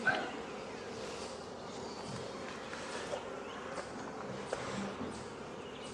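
Honeybees drone in a constant, even buzz during a hive inspection two weeks after splitting the colonies, a soft close hum with faint handling clicks and knocks scattered through it.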